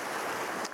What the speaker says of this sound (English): the waves are crashing over the rocks, and as it ebbs away, the rocks are exposed